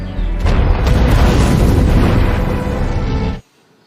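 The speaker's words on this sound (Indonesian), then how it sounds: "Sampai akhirnya rudal itu pun meledak." A missile explodes in a 2021 James Bond film, a loud, dense roaring blast that rumbles continuously for over three seconds before cutting off abruptly into near silence.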